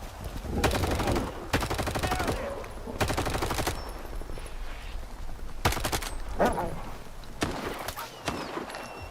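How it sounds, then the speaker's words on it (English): Bursts of automatic gunfire from the S.T.A.L.K.E.R. Clear Sky video game, several loud volleys separated by short gaps, with game ambience and a faint bark underneath. "And now Trapper's shooting me too."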